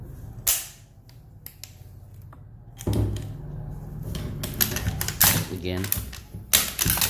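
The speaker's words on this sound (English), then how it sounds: "it's got a light trigger pull" Galil Ace 5.56 rifle with an 11-inch barrel being handled and dry-fired, a few sharp mechanical clicks and clacks spaced apart, with someone talking briefly between them.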